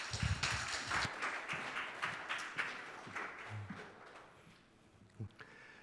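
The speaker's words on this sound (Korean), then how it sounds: "우리 목사님 나오실 때 박수로 환영하도록 하겠습니다." A church congregation at a Sunday service claps in welcome for a visiting guest pastor, a dense burst of applause that swells early and thins out toward the end, with scattered claps and faint movement.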